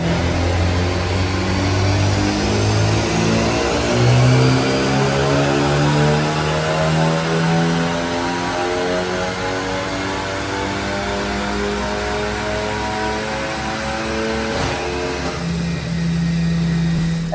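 A VW Jetta TSI 211 fitted with a Biagio 300 turbo and a remap revs repeatedly up and down, its engine note climbing and falling in loud, close sweeps with no talking.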